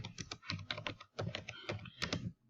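Rapid typing on a computer keyboard, close and fairly quiet, with clustered bursts of light key clicks separated by short pauses.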